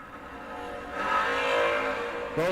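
Door-car drag racers launching off the start line at a drag strip, a sustained loud engine roar that swells and holds, then a sharp new burst near the end.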